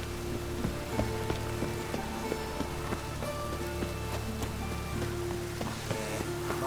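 Steady rain falls in The Witcher 3: Wild Hunt, a continuous hiss of drops on surfaces with scattered sharper patters, layered over game ambience and tonal music, and it stays even throughout.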